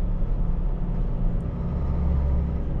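Steady low engine rumble of a vehicle descending a slope on engine braking, a continuous droning growl that holds loud and even throughout with no talk.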